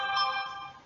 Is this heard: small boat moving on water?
no